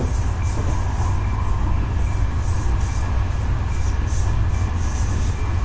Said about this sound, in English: Is that the Long Island Railroad?